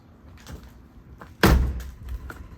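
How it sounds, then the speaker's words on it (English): A 1968 Mustang's car door shuts with a single heavy slam, preceded by faint handling clicks and followed by a brief rattle and settling noise. "Door shuts."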